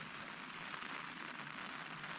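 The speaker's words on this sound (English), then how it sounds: "It's raining." Steady rain patters on a camping tent during a bikepacking trip in Wales, a soft continuous hiss without pauses and with no voices.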